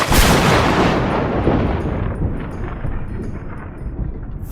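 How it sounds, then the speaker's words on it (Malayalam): Thunder rumbling loudly over rain in Kerala, a broad deep roll that starts strong and slowly fades across several seconds, with no voices. "നല്ല ഇടിയും മഴയൊക്കെ വരുന്നുണ്ടല്ലോ"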